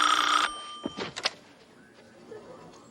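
A telephone bell rings loudly in one short burst, followed by a few dull thunks as the handset is picked up, then quiet.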